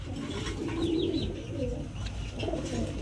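Racer pigeons coo in low, soft, rolling calls repeated several times at close range, with faint chirps and a murmur of background noise.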